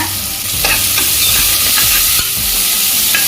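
Onions, shallots, curry leaves and dried red chillies sautéing in hot oil for a masala chicken, a loud close sizzle with repeated stirring scrapes and knocks against the pan, no voices.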